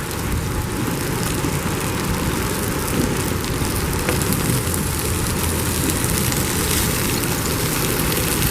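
Wind picks up outdoors beside a griddle at an RV campsite, a loud steady broadband rush that buffets close to the microphone for the full stretch, with no voices.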